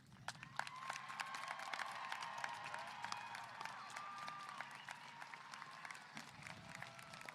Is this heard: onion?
no